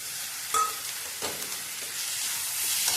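Grated ridge gourd stirred in a pan with turmeric, a soft steady sizzle with a few scraping spoon strokes, close and alone with no talk.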